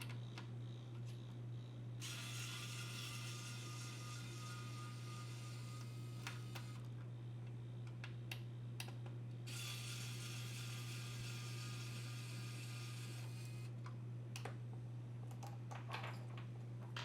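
A screwdriver backs out the two small screws holding a CD-ROM drive in a Toshiba laptop, giving two stretches of fine, close ratcheting clicks over a steady low electrical hum.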